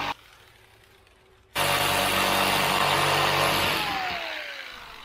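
After a quiet start, a jigsaw fitted with a fine-tooth blade bursts into a loud buzzing cut through wood for a boat back seat, runs steadily for a few seconds, then winds down and fades near the end.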